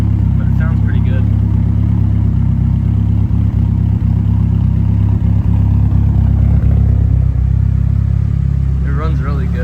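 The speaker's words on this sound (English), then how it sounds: "I think it's a vibrant muffler," A 1990 Eagle Talon TSi AWD idles through a Vibrant muffler with a deep, steady low rumble, fairly loud and close, while a person talks over it at times.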